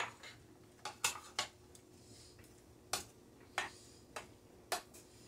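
A spoon scrapes and taps against a pot while thickening sauce is stirred with soft, well-cooked potatoes breaking up in it. The sound is a quiet scattering of sharp clicks and clinks at an uneven pace.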